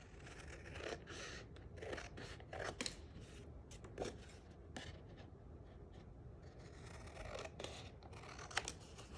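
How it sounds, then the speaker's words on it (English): Scissors cut through cardstock for a playful dog-themed birthday card, with soft, close snips and papery crunches that come in short bursts and repeat steadily in a quiet room. "And then I'm going to cut that off."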